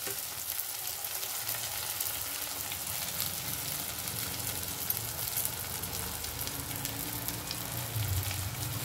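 Tomatoes go into a hot pan for pav bhaji and fry with a steady, close sizzle and crackle, broken by a few faint stirring scrapes. No one speaks.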